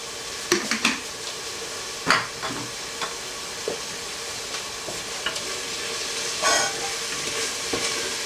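Seedless red chilies and spices fry in a pan for homemade garlic chicken, a steady close sizzle broken by sharp scrapes and clinks of a utensil stirring; no one speaks.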